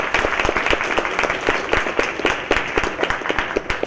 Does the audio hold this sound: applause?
yes